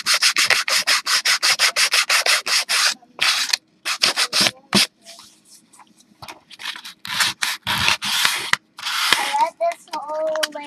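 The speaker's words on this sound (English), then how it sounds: "right now I'm just kind of sanding this to get it a nice smoothness so that it just fits together better" A hidey hole book being sanded by hand with 100 grit sandpaper, a fast run of loud, close, rhythmic rasping strokes, then slower, scattered rubs with brief pauses.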